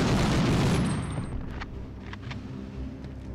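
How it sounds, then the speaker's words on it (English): Enemy gunfire from above in Medal of Honor on PS1, a loud rattling burst at the start that fades into a low rumble with a few distant scattered shots. "you got guys above me shooting at me"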